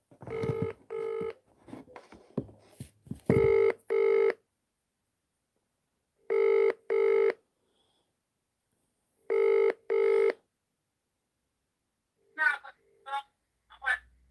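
An outgoing phone call rings out, with paired ringback tones repeating at steady intervals in the quiet, followed near the end by a few short electronic beeps. A voice speaks briefly before the ringing starts.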